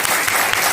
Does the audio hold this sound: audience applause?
yes